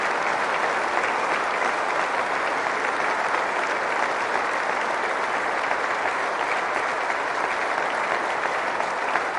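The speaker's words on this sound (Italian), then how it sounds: "Un applauso." Dense, steady applause from a congregation at a memorial mass for Italian soldiers fallen in Afghanistan, filling the church evenly and continuously without pause.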